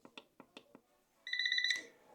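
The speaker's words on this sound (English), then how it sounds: "The alarm is off, nice and loud, so you can hear it." A kids' digital alarm clock beeps in a steady rapid pulsing tone, loud and close, preceded by a few soft button clicks.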